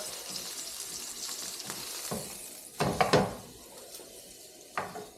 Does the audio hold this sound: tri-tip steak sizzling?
yes